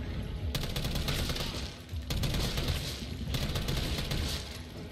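Sustained bursts of rapid automatic gunfire in the Resident Evil 3 Remake video game, dense and loud, with brief pauses between three long volleys.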